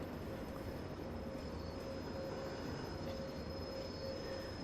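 NZR Kb steam locomotive braking in Train Simulator, a steady dense rumble of rolling wheels and brake noise with a faint high squeal running throughout, continuous and even in loudness with no speech.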